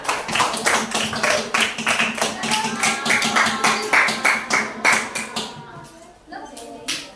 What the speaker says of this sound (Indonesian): kasih tepuk tangan untuk kelompok Loges